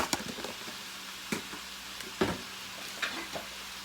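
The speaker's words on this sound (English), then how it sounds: "while that cabbage is cooking" Cabbage and sausage fry in a pan with a steady, soft sizzle, broken now and then by faint clicks and scrapes of stirring.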